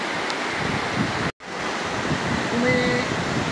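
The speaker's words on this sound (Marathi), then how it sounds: "या ठिकाणी तुम्हाला एक सुंदर असा धबधबा या ठिकाणी वाहताना दिसत आहे" Steady, close rush of flowing water from a waterfall near the Dari Aai Mata temple in Nashik, loud broadband noise with a brief dropout partway through and no talking.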